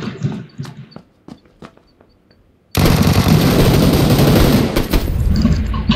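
Video-game gunfire comes in sparse, sharp shots at first, then breaks into a loud, sustained burst of rapid automatic fire that dominates the rest of the clip.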